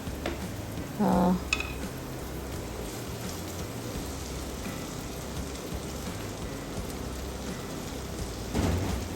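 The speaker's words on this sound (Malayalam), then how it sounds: "കറിവേപ്പിലയും പിന്നെ നമ്മൾ അരിഞ്ഞു വെച്ചിരിക്കുന്ന വെണ്ടയ്ക്കയും കൂടെ ആഡ് ചെയ്ത് കൊടുക്കാം." Curry leaves and chopped okra hit hot oil with onion, giving a soft continuous crackle like light rain, with a brief louder burst near the start and another at the end.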